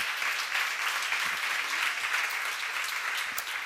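Audience applause at a church seminar, a steady wash of many hands clapping together for nearly four seconds, moderately loud and even with no talk over it.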